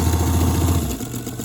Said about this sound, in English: I'm going to sew right off the corner